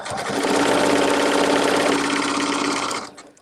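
Sewing machine stitching a quilt-as-you-go placemat at full speed, one loud continuous whirring run lasting about three seconds before stopping, close up with no talk.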